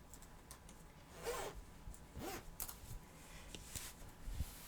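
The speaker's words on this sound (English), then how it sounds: "I'm trying to not hit my jacket zipper on it." A jacket zipper brushes and knocks against an exercise ball chair, giving a few faint, scratchy rattles spaced over a few seconds in a quiet room.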